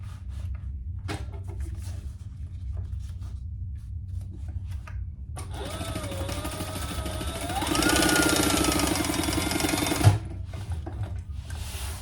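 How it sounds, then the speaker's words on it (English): A sewing machine stitches across the bottom of a fabric tote bag with a steady mechanical whir that speeds up and grows louder near the end, then stops with a small clunk, close and without talk. "We're going to sew across the bottom only."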